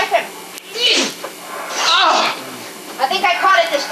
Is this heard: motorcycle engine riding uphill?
no